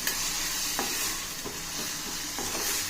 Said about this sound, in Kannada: ಸೊ ಚೆನ್ನಾಗಿ ಗೊಜ್ಜು ಫ್ರೈ ಮಾಡ್ಕೊಬೇಕು.